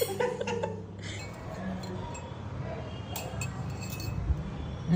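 Spoon tapping against a drinking glass, with light clinks scattered through a busy indoor background of murmuring voices and chuckles.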